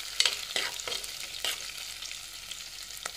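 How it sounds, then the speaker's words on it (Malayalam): Ginger, garlic and green chillies fry in oil for a Kerala fish chilli curry, crackling with a close sizzle and a few brisk stirring scrapes of a spoon in the pan, with no speech. "ഇത് ഇഞ്ചിയും വെളുത്തുള്ളിയും പച്ചമുളകും ഈ എണ്ണയിൽ കിടന്നിട്ട് നന്നായിട്ടൊന്ന് മൂത്ത് വരണം."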